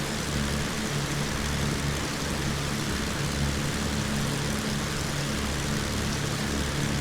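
A Beechcraft Baron 58 twin-propeller engine drones with the throttle reduced in Microsoft Flight Simulator X, a steady, loud, even hum with a low pulsing throb and no talk over it.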